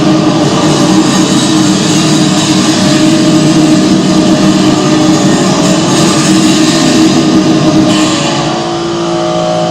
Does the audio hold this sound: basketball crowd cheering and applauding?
no